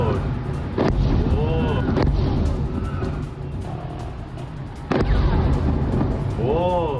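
Airstrike explosions at Bandar Abbas, Iran, in news footage: three heavy, booming blasts land a few seconds apart over a continuous low rumble, with voices faintly audible in between.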